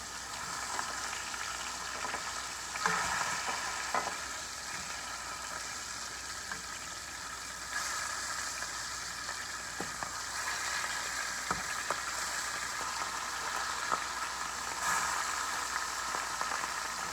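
Oxtail pieces browning in a skillet on high heat, a steady moderate sizzle and crackle throughout with occasional small clinks and pops, no voices.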